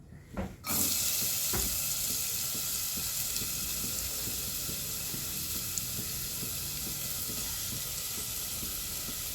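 Chopped onion dropped into a little hot oil, with a sudden loud hiss that settles into a steady, even sizzle, close and alone.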